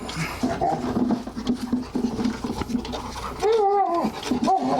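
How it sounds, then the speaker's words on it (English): A dog's rubber ball squeaks repeatedly in short bursts amid scrabbling and panting, with a louder squeak near the end. "that noise is my silly dog deciding to play with his ball."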